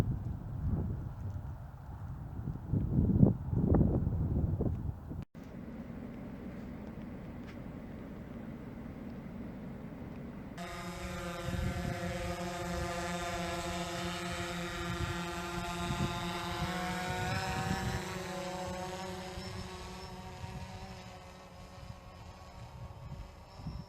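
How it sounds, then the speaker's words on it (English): A new drone on a farm property, heard as a steady layered motor whine with stacked tonal harmonics that sets in partway through and runs on continuously, preceded by rough outdoor rumble and handling noise. "Right, the new drone up and running, baby."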